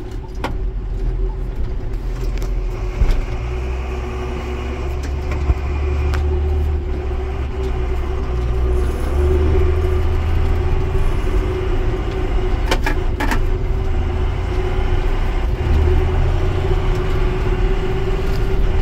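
Tractor with a 40 km/h transmission hauling manure, its engine running steadily throughout with a constant low drone and cab blower hum, no speech.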